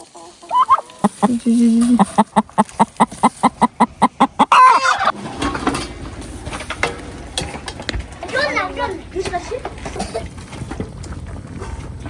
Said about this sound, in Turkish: Ben de o yüzden hemen tavuğu kaldırıyorum, altından yumurtayı alıyorum.